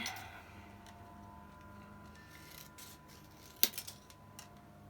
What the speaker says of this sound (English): I need to trim these edges to make them a little bit more interesting